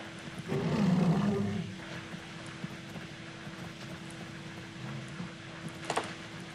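In Far Cry Primal, a lion roars loudly and close by for about a second. The roar then fades into quiet wilderness ambience, broken by a few faint rustles and clicks.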